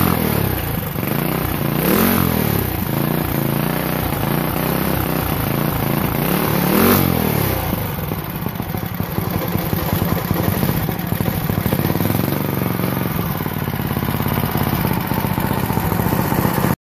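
A small engine on a motorized custom drift trike with a newly fitted clutch and fuel tank runs loud and close. Its steady clattering drone rises and falls slightly in revs throughout, with no voices.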